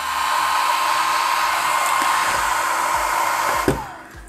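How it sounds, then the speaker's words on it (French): A steady, loud whirring cooling fan of a Qidi X-Plus 3 3D printer with a constant high hum, running alone, then a soft knock as it cuts out near the end. "ce ventilateur, vous vous en souvenez, puisque dès qu'on l'allume, on peut pas faire sans l'entendre"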